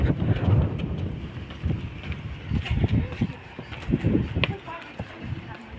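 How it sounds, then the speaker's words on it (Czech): Wind buffets the microphone in uneven low gusts while someone looks out over a scenic view on a hot day in Sardinia. The rumbling comes in irregular surges, loudest near the start and middle. "tady je docela příjemný vítr"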